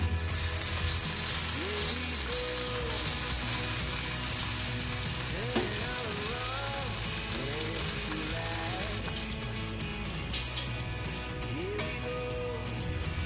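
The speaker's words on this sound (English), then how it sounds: "I fried the beef on both sides for about 2 or 3 minutes" Beef tri tip frying in a pan gives a steady, dense sizzle that runs unbroken throughout, with faint melodic tones drifting underneath.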